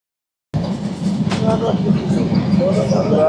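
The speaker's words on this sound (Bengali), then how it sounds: "আমাদের ট্রেনটি টিকটিক টিকটিক করে চলে যাচ্ছে ফরিদপুর উদ্দেশ্যে" Sundarban Express train clattering along from Dhaka toward Faridpur, heard from inside a middle carriage: a steady loud rumble and rattle starting abruptly after a brief silence, with faint squeals riding on top.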